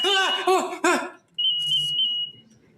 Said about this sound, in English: False alarm. It's just my new pager.